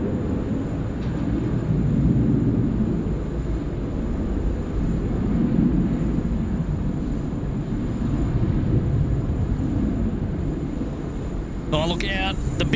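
An airliner roars steadily as it lands on runway 16 right at Sydney Airport, a broad, continuous rumble heard from nearby with a gusty, windy texture, while talk runs underneath.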